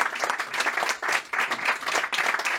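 Applause from a live audience at a magic show, a dense burst of clapping that surges and briefly dips, loud and close, with no talking over it.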